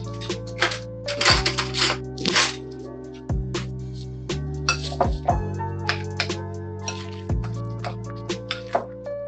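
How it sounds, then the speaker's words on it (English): Carne asada marinade being stirred in a bowl, a spoon clinking and tapping against the sides in irregular knocks with liquid sloshing, close and fairly loud. "I'm gonna give that a stir and a taste."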